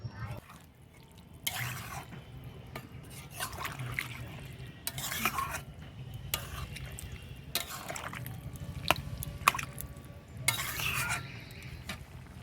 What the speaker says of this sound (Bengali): আর এদিকে কিন্তু তরকারিটা একদম ফুটে উঠেছে।